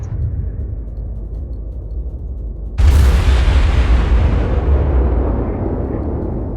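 A heavy naval gun salvo in World of Warships erupts with a loud, booming blast that then rolls off into a long rumbling decay, standing alone after a low steady engine drone.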